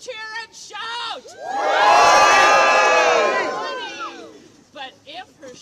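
A crowd at a Groundhog Day celebration at the Howell Nature Center bursts into loud cheering, whoops and children's shouts that swell for a few seconds, framed by a voice speaking before and after.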